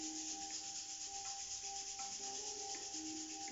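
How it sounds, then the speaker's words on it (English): Palms rub together to build heat, giving a soft, steady, close swishing friction with even rhythm and no voices. "Bring your hands together and begin to rub them together, rubbing the palms of your hands to build heat here."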